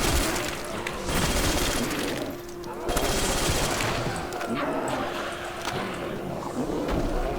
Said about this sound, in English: it's technically a machine gun, even though it's hardly larger than an STG